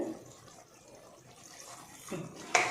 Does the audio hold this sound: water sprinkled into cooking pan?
yes